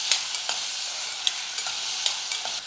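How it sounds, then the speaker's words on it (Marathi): Potato pieces fry in oil with a constant hissing sizzle, punctuated by regular spatula scrapes and taps against the pan, close and unaccompanied by speech. "बटाटा पण बघा आपण अगदी दोन तीन मिनिटं तेलामध्ये परतून घेतला"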